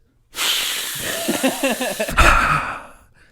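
A voice imitates heavy breathing through the nose, one long, loud, hissing exhale with a wavering, slightly voiced middle and a sharp puff near the end, very close and alone.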